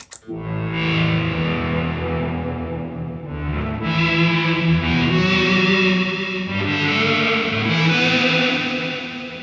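Electric guitar through an EarthQuaker Devices filter pedal, the filter knob rolled slowly down from high: distorted, sustained chords with a sweeping, shifting tone that darkens and brightens, loud and continuous with no voices.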